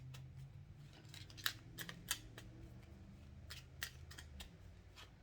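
Tarot cards being shuffled and straightened by hand, a soft run of quick papery riffles and taps at close range over a low steady background hum, with no talking.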